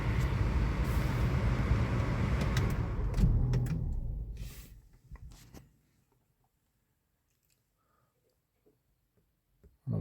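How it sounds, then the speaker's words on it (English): The blower motor of a 2017 Land Rover Range Rover Evoque: a steady low whooshing hum with some clicks and rattles, winding down to silence after about five seconds, then a sudden restart right at the end, no speech. "got the blower motor running."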